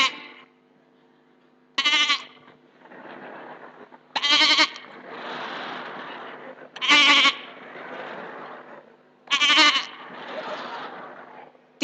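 A goat bleats loudly four times at even intervals, each cry sharp and wavering and close by, with a voice talking in the gaps between the calls.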